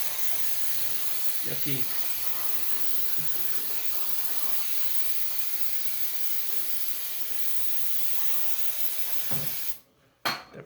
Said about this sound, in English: That brake cleaner does wonders sometimes.